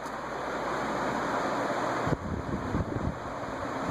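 A c.1977 SMC/ERS industrial ceiling fan runs with a steady broadband whoosh of moving air and wind noise, a brief bump midway and slightly uneven rushing afterward.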